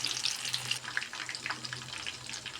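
Meal maker soya chunks fry in hot oil, giving a quiet, steady sizzle flecked with small crackles and pops.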